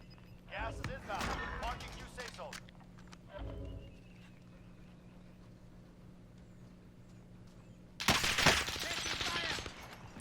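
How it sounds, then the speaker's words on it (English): Gunfire from Call of Duty Warzone comes as several sharp, dense bursts of shots, with a long quiet gap before a loud final volley; the shots are close and sit under occasional talk. "I start getting shot at."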